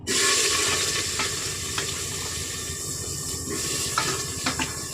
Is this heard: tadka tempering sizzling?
yes